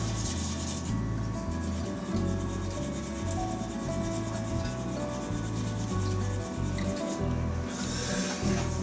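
Abrasive grit sands a wooden shaving brush handle spinning on a lathe, a steady rhythmic rubbing hiss with regular pulsing strokes under the constant motor hum, close and continuous throughout.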